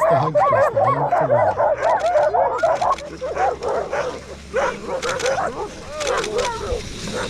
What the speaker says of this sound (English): the guides had to talk over the barking of the excited sled dogs